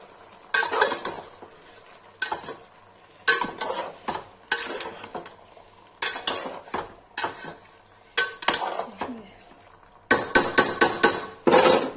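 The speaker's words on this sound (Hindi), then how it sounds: "इसमें दही डाल रहा है। चला देंगे" A spatula scrapes and clatters against a pan while yogurt is stirred into frying chicken curry, loud close bursts of metallic scraping in irregular groups with short pauses between them and a faint sizzle underneath.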